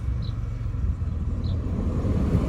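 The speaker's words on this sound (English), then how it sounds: "Turn the car on." A 2004 Chevrolet Impala LS with an automatic transmission idles close by, giving a steady, low, continuous rumble with no break or change in pitch.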